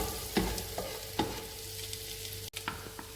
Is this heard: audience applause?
no